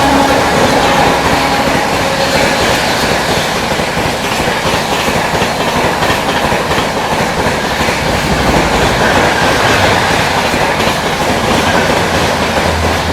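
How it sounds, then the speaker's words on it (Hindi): Jammu Rajdhani Express 12425 overtaking at speed, a loud, close, continuous roar of passing coaches with rhythmic clickety-clack of wheels over rail joints and no voices. "12425 जम्मू राजधानी एक्सप्रेस आती हुई राजधानी।"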